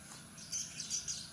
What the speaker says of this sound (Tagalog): May mga ibon.